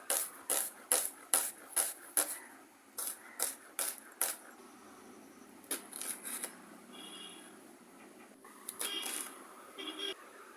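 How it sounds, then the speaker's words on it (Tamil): Knife chopping onion, green chilli, garlic and curry leaves on a board, a close run of crisp regular taps, then sparser cuts and some faint handling noise. "நாங்கள் எல்லாத்தையும் வெட்டி தயார் செய்து கொள்வோம்."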